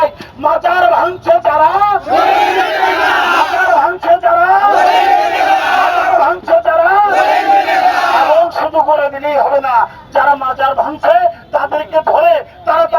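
A crowd at the Central Shaheed Minar chants a slogan in loud, rhythmic bursts of many voices, with short pauses between the repeated lines.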